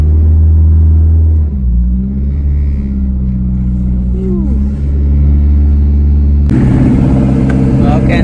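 A Toyota MR2 engine starting and idling, a loud steady low rumble close by with a shift in pitch partway through and a brighter tone near the end, with some voice under it.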